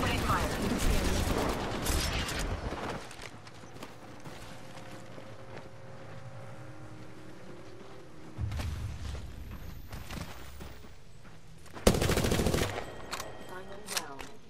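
Bursts of automatic weapon fire from the Apex Legends battle royale video game, loud rapid volleys near the start, midway and near the end, with quieter game ambience and a brief synthetic announcer-style voice between them.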